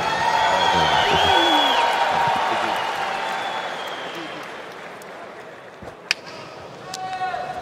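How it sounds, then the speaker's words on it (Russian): A fight event crowd applauds and cheers to welcome a fighter who stepped in on short notice to save the main event. The clapping starts loud, then fades gradually, with whoops and a single sharp knock near the end. "Давайте поприветствуем его аплодисментами."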